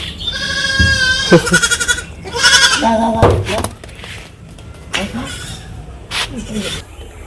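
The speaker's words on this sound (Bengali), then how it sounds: "ছাগল" Close, loud goat bleats in a Bangladeshi village in the late afternoon, a run of shaky, vibrating calls followed by shorter ones, with people talking in the background.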